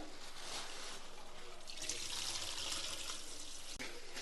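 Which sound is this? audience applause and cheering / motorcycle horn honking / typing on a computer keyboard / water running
water running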